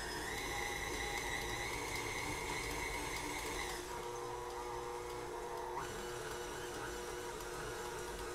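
A KitchenAid stand mixer fitted with a whisk attachment runs at a steady, close whir, its pitch shifting partway through as the speed changes, with no talking over it.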